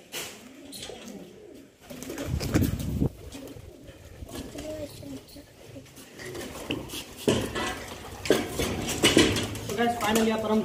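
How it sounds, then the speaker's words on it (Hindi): Wild pigeons coo softly while light pecking and clattering sounds come and go nearby as they eat grain on the ground, with scattered rustling in the background. "यहाँ पर हमारे तीन कबूतर नीचे दाना खा रहे हैं और बाकी ऊपर बैठे हैं"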